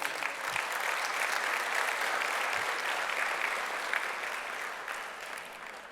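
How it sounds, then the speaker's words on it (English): Sustained audience applause for a dignitary after his remarks at a health and wealth event, a dense, even wash of many hands clapping that holds steady and eases slightly toward the end. "A round of applause for him"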